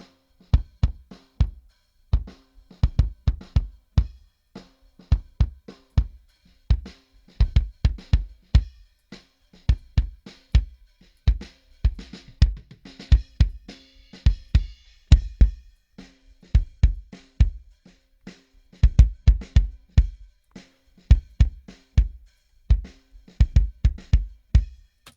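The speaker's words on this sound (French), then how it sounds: "Ça, c'est un son de kick que j'aime beaucoup." Kick drum captured with a Shure Beta 52 microphone, played alone as a punchy, close, loud pattern of repeated deep thumps in a groove-like rhythm with no talking.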